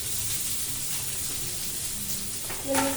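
Oil sizzles steadily in a pan as chopped onion and green chili fry after mustard seeds, a soft continuous crackle with a brief clink near the end.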